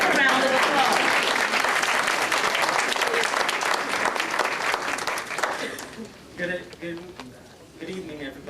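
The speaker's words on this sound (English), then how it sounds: "Give him a round of applause." An audience applauds at a 2001 swearing-in ceremony for an Alameda County supervisor, a dense, steady burst of clapping that fades out after about six seconds, leaving scattered claps and murmurs.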